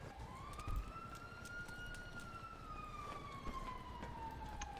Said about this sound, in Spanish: Escucho sirena.